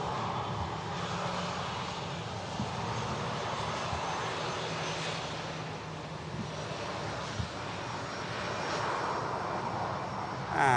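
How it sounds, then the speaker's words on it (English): A Ryanair jet touching down on the runway at Manchester Airport, a steady, distant roar of engine and airflow that holds throughout, with wind noise on the microphone and no speech. "the Ryanair just touching down from Madrid."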